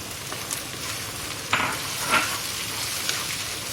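Green chilies and tomatoes frying in a masala paste for dhaba-style mash daal, a steady close sizzle with a few stirring scrapes and brief louder spurts of spitting oil, no talking.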